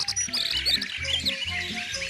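A European robin sings near a window bird feeder, a run of bright, rapid chirps and trills that carry clearly over soft low background noise from start to finish.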